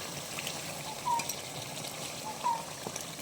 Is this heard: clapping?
no